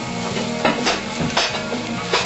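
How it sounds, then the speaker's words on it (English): A tomato and cheddar cheese mixture sautés in a pan, giving a close soft sizzle with a few stirring scrapes and clatters. "I'm gonna want to kind of saute all of this up."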